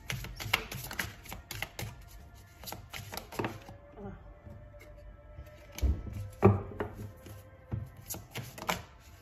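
Tarot cards being shuffled by hand, a run of soft papery riffles and taps in irregular bursts, near and fairly quiet, with a brief steady tone in the background.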